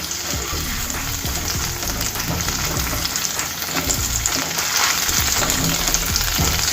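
Rice frying in a pan with ripe red chilli paste as it is stirred together, a continuous loud sizzle with scraping stir strokes throughout.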